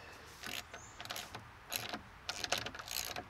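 Carriage bolts being tightened on deck framing outdoors, with a wrench or ratchet giving several short grinding clicks and creaks in quick bursts up close.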